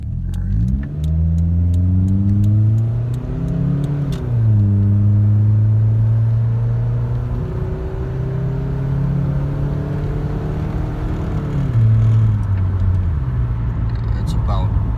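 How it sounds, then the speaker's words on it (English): A 1995 Toyota Camry pulls hard at full throttle from a stop sign, its engine drone climbing through the gears with rises and dips between shifts, loud and steady from inside the car. "I'll do a little pull here at this next stop sign."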